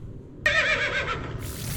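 A horse gives a single short, bright whinny, fairly close and alone, rising suddenly and trailing off after about a second.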